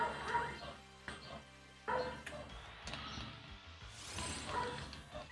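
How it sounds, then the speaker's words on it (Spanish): Dogs bark and yip in short bursts at a few points, mixed with whimpers, under a busy background of other sound. "es una cosa increíble los perros, me tienen enfermo"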